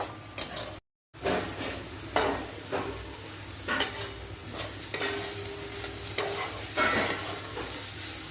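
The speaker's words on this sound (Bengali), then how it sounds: "একদম শুকনো শুকনো করে ভাজতে হবে" A ground paste mixed with chili and salt dry-frying in a pan, with a steady low sizzle and repeated scraping and stirring strokes of a utensil against the metal, close up and with no talking.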